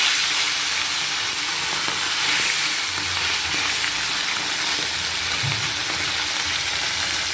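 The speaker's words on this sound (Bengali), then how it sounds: "তো এই করতে করতে তো তেলটা তেতে গেছে, তো ঝটপট করে মাছগুলো ছেড়ে দিই।" Fish is dropped into smoking-hot oil and fries with a loud, dense, continuous sizzle and crackle, close up with no talking over it.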